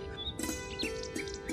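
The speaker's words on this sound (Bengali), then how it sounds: "পাখির কিচিরমিচির ডাকে" Birds chirp at dawn over a village, with several quick, high tweets overlapping in short bursts against a faint steady background.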